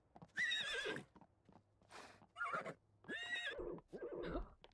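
Several loud horse whinnies in The Sims 4 in quick succession, shrill and close, separated by brief pauses.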